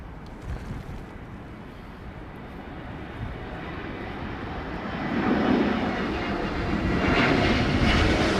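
An Austrian Airlines Airbus A320neo jet at Heathrow during a storm gives a continuous engine rumble that swells louder in the second half, with no talking.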